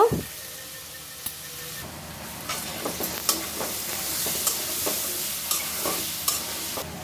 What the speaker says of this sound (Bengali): এবার আলুগুলো সুন্দর করে লাল লাল করে ভেজে নিব।